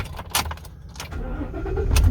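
A 2018 Ford F-350 XL regular-cab utility-bed pickup is started with its key: a few light clicks and jingles, then the engine cranks and builds to a rising rumble at the very end.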